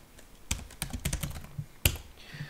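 Crisp, close keystrokes on a laptop or desktop keyboard come in a fast uneven run of taps, with one sharper key strike near the end, while a command is typed.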